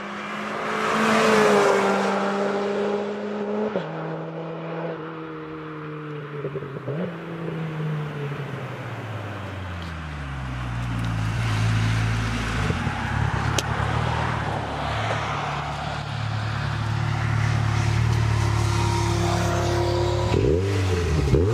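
A sports car's 2.5-litre swapped engine in a Mazda MX-5 NC revs repeatedly, pitch climbing and dropping through several throttle blips, loud and close with no talking.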